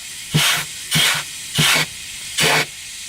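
Compressed air is applied to the clutch passages of a 4T65E automatic transmission, giving four short, evenly spaced hissing bursts, close and clear, with brief silences between them.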